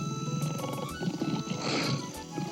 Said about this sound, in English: The tiger growled with much ado